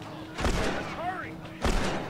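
Two sharp gunshots from The Last of Us gameplay, spaced about a second apart, with a brief whistling sweep between them over a low background hum.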